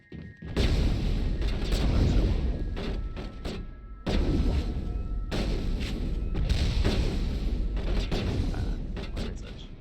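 Gunfire in the sci-fi video game Mass Effect, heavy booming shots and thuds in quick bursts, loud and close, with a brief lull before the firing resumes.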